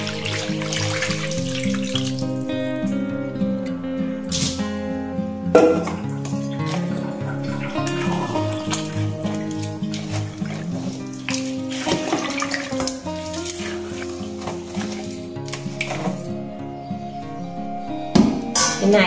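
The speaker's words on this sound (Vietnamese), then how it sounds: "mình sẽ cho nước vào." Water runs and splashes into a pot with crab for crab noodle soup, a continuous close pouring sound over a steady musical background.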